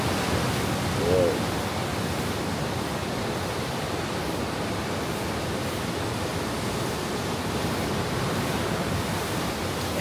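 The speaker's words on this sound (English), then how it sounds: "A lot of waves coming in on the place just feel nice and refreshing, and the breeze just feel good." Sea waves washing onto the shore at a Jamaican seaside bar and grill, a steady loud broadband surf roar with gentle rolling swells and some breeze, no talking.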